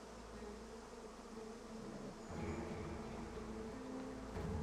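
Bees buzzing in the video game Divinity: Original Sin 2, a low, steady drone under a faint layered game soundscape that swells slightly partway through.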